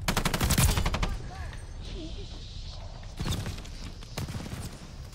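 KG M40 light machine gun fired in Call of Duty Vanguard Warzone: close, loud rapid bursts of automatic gunfire in a slow, heavy rhythm, with a pause between volleys and a voice talking underneath.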